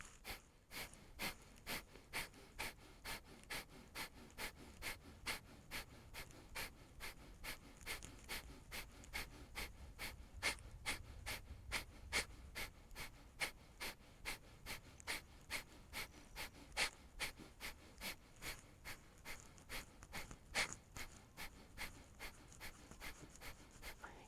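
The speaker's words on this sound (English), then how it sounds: "Inhale for breath of fire and go." Rapid, steady breath-of-fire panting during a yoga session, dozens of sharp rhythmic exhales through the nose, close and even in pace for the whole stretch with no talking.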